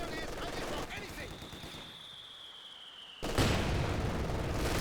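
Mortar fire and explosions in the strategy game Company of Heroes 2, a dense rumbling barrage with gunfire and a whistling incoming round before a loud close impact, under a commentator's voice.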